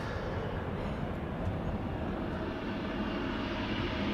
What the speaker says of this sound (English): KLM flight 751 lined up, ready to go to Quito. 777-200 PHBQL, 18 years old, spooling up